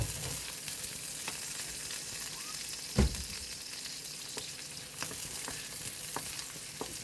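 Onions sizzle steadily in a hot pan after garlic, a continuous fry with occasional sharp pops and one louder clack near the middle.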